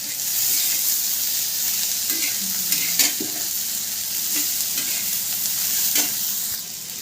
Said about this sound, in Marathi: मस्त असं लाल तिखट आता मिक्स झालेलं आहे, परतून घेतलं आहे मी थोडंसं गिलकं।